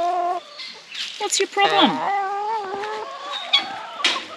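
Chickens cluck and squawk inside a coop, several close birds calling in quick irregular bursts with a rising screech, while a person briefly speaks among them.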